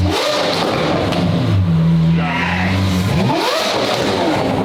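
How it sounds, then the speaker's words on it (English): A wide car with a loud exhaust revs hard on a London street, the engine pitch climbing and falling through repeated surges, loud and close with a raspy, roaring tone. "How does London like loud exhaust?"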